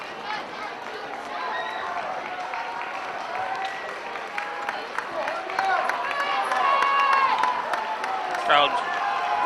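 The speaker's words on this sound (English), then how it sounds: "Crowd starting to make some noise." A high school varsity football crowd in the stands cheers and claps, a broad rising roar of voices and applause that swells toward the end, with a commentator talking over it.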